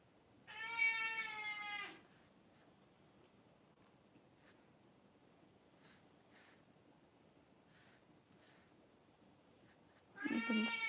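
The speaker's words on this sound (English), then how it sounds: "I'm really sorry about my cat." A house cat meows loudly and close by, once in a drawn-out call near the start and again at the end, with quiet room tone and faint ticks in between.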